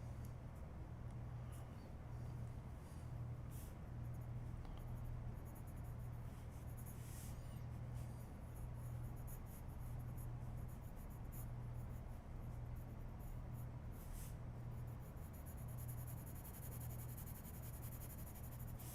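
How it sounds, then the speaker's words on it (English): A white gel pen scratches faint, steady lines across paper, a soft continuous scraping close up over a constant low background hum. "white lines with a white gel pen"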